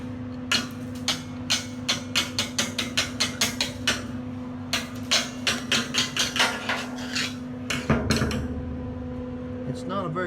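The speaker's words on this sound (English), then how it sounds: "So here's what the dual shield looks like after you weld it. The flux comes off really easy." Flux slag being chipped from a dual shield flux-core weld on a steel frame, a run of sharp metallic taps in quick rhythmic bursts, close and fairly loud, with a short pause and a steady hum underneath.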